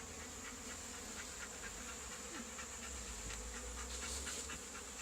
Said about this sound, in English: there's loads of bees buzzing all around